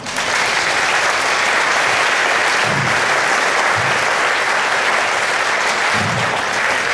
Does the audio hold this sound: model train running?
no